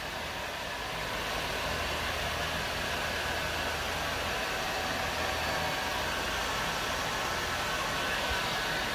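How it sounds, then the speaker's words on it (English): Heat gun blowing steadily over a hand-laid carbon fiber hybrid panel, a continuous, even, fairly loud airy whoosh close by that holds without a break. "I'll touch it one more time with the heat gun before"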